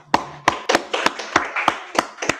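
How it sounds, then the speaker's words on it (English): Hands clap in a loose, slightly uneven rhythm, eight or so sharp, close claps spaced about a third of a second apart, with no voices over them. "clap it up"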